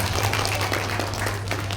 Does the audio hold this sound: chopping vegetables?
no